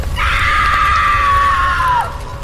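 A woman screams in agony as if burning alive, a single sustained high shriek of about two seconds that cuts off abruptly, loud and close over a low rumbling horror-story backdrop.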